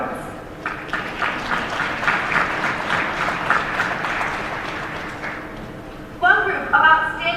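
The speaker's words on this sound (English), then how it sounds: "Let's have a round of applause for all of the hard work put into these reports." A convention crowd at an FFA session breaks into a sustained round of applause, dense clapping filling the hall for several seconds before a voice comes in over the fading claps.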